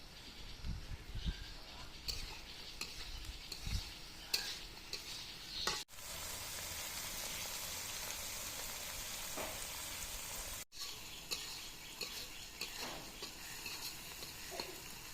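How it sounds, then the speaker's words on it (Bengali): Onions for a Tengra fish curry with potato and Malabar spinach fry in oil, giving a steady hiss and crackle broken by scraping stirs, with one long continuous sizzle in the middle stretch. "আমার পেঁয়াজ ভাজাটা হয়ে গেছে।"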